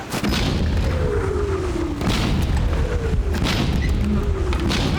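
Ship cannons firing in a naval battle aboard a period sailing warship, heavy booming blasts one after another over constant loud rumble and shouted crew noise.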